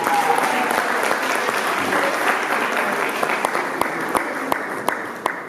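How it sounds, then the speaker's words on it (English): An audience at a youth awards ceremony gives a sustained round of applause, a thick wash of many hands clapping that thins toward the end into scattered individual claps. "Round of applause"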